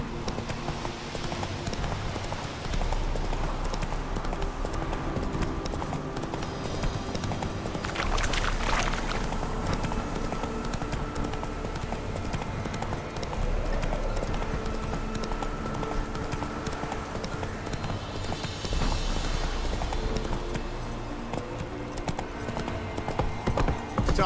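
Horse hooves clip-clop steadily through the video game The Witcher 3, in a continuous, moderately loud rhythm over game ambience, with brief bursts of louder noise and occasional voices.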